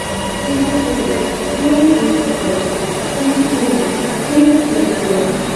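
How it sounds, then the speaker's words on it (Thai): An Airport Rail Link train in Bangkok rumbles steadily nearby with rising and falling mechanical hum and faint wheel squeal as it pulls in; no one speaks. "รถไฟ แอร์พอร์ตลิงมาแล้ว"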